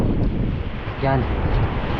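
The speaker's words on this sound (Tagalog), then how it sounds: "Mahangin" Strong typhoon wind buffets the microphone by the water near a moored fishing boat in Batangas, a steady roaring rush throughout with a brief spoken word in the middle.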